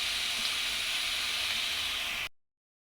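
Ground onion paste sizzles steadily in hot oil, a close, even hiss that holds for about two seconds and then cuts off abruptly.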